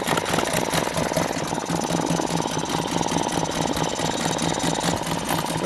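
A Mariner 3.3 hp outboard engine idles steadily after a carburettor strip-down, a close, even mechanical putter with a fast regular pulse and no talk.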